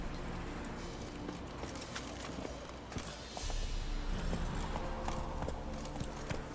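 Roach, the horse in The Witcher 3 video game, walks with a steady clip-clop of hooves over a low ambient background, the hoofbeats growing a little fuller partway through.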